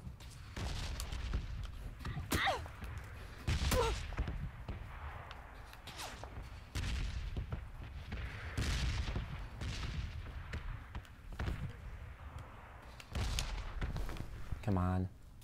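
Gunfire in the PUBG battle royale game: scattered sharp shots and short bursts, some near and loud, others more distant, spread across a stretch of quieter movement and ambience.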